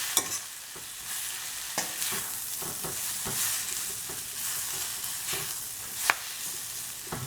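Spices for cauliflower pulao sautéing in a pan, a soft steady sizzle broken by sharp scrapes and clacks of a spoon stirring against the metal, close and alone without any talk.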